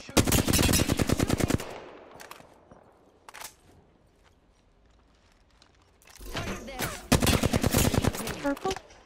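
Enemy gunfire in a shooter video game comes as loud, rapid automatic bursts, a sustained volley at the start and another heavy stretch near the end, with quieter single shots between.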